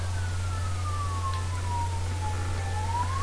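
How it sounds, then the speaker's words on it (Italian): An ambulance siren passes outside, its thin wailing tone sweeping slowly down and back up at moderate distance over a steady low hum, with no talking. "Scusate l'ambulanza che si sente."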